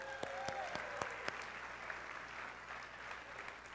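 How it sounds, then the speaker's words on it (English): A church congregation gives a round of applause, a sparse patter of claps with a few sharp, distinct hand strikes standing out near the front, fairly quiet and with no voices over it. "Give these guys a big round of applause."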